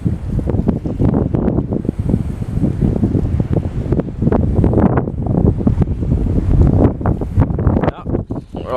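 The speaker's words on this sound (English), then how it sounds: "Well, this is the kind of wind we're dealing with." Strong wind roars across the microphone at a backcountry campsite in Ontario's Frontenac area, a loud, constant gusting rumble with rustling that rises and falls throughout.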